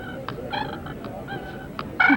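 A push-button turkey box call makes soft, rolling purr notes in short bursts, close and fairly quiet, then ends in a louder, brighter note. No one speaks.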